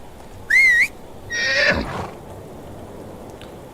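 In the medieval game Medieval Dynasty, a horse gives a short high whinny and then a longer snorting neigh, close and loud over soft steady background ambience.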